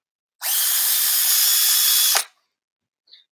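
A handheld power drill runs in one steady high-pitched whine for nearly two seconds, then cuts off sharply with a short click afterward; close and loud, with no talk.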